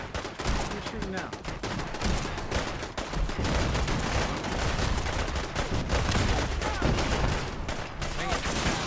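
Dense, continuous gunfire in the game Fallout 4, rapid overlapping shots and bursts filling the whole stretch at high intensity, with a voice faintly under the battle noise.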